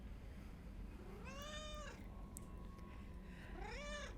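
A cat meows twice, each call a clear drawn-out rising and falling cry, separated by a pause, over a steady low background hum.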